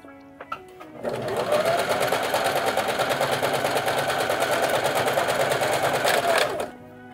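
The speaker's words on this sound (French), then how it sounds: "On fait quelques points d'avant et quelques points arrière pour débuter une couture." A Janome HD5000 sewing machine starts after a few faint clicks and runs at a fast, even, close-up rattling stitch for about six seconds, then stops.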